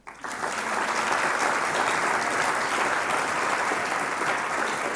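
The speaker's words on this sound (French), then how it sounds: "sous vos applaudissements." A ceremony audience at a university course opening breaks into applause, a full, loud, sustained roar of clapping that rises almost instantly and holds evenly throughout.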